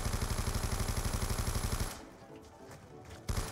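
An RPD machine gun firing in Call of Duty zombies, a rapid, loud, evenly spaced burst of shots lasting about two seconds, a brief pause, then fire resuming at the end.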